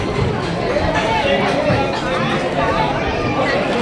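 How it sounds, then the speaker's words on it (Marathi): A dense crowd of devotees murmurs and chatters steadily at the Narasobachi Wadi Datta temple, a busy blur of overlapping voices, with no single speaker standing out. "गर्दी बघा मित्रांनो किती आहे."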